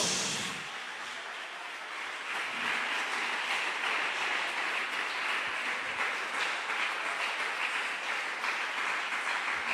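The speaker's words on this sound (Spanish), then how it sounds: "Dale un aplauso a Dios." A church congregation applauds in Valledupar, Colombia, with sustained, dense clapping that fills the room evenly from start to finish.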